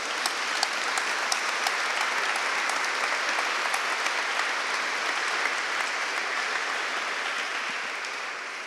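A theatre audience claps in a sustained, even round of applause that holds steady for several seconds, then starts to taper off slightly at the close.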